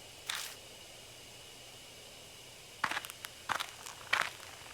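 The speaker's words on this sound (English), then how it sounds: "I hear footsteps again." Footsteps move through bushes in the game Death Mark, heard as one soft rustling step and then a cluster of crunchy steps. They are faint over a low hiss of background noise.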